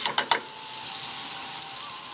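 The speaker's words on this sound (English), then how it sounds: "So in go all the spices that we mentioned earlier, yeah? Okay, just fry those out for about 30 seconds" Spices fry in a hot pan for chana saag masala, a bright steady sizzle close up, opening with a few quick scraping clicks of stirring before settling into a continuous hiss.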